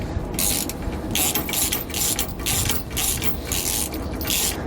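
A 14mm socket on a ratchet tightening nuts on a steering stabilizer bracket of a 2007 Fleetwood motorhome, heard as loud, close, rapid ratchet clicking in steady back-and-forth bursts.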